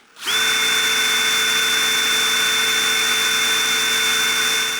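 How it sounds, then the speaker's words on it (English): A power drill spins up sharply from near silence to a loud, steady high whine with sustained tonal hum, holding constant speed for several seconds. "Maybe I'll hook it up to a drill."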